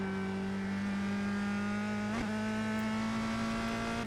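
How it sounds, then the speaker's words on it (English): Skip Barber Formula Renault single-seater race car engine in the iRacing sim, a buzzy, high-revving whine held steady, briefly dipping and climbing again as it pulls through a corner, heard alone and fairly quiet. "Nice little buzzy, angry engine going on behind me."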